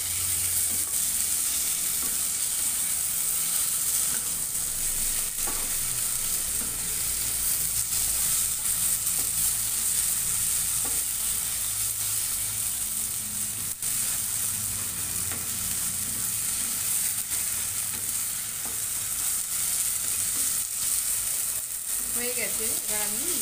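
Pumpkin and green chilli frying in a pan for a pumpkin chechki, a steady close sizzle with occasional stirring scrapes throughout, no talking.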